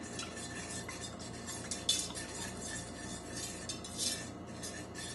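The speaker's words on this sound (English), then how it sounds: "Stir it up with my little whisk here." A small whisk clinks and swirls quickly in a glass of lavender lemonade, a soft, fast metallic stirring heard close but faint, with a couple of brighter taps and no voices.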